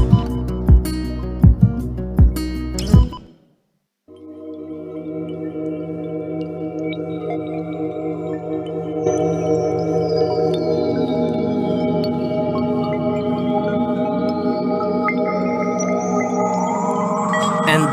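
A sustained synth pad holds a wide, steady chord with slowly sweeping upper tones, entering after a short burst of other music and a moment of silence, then swelling gradually and ringing alone.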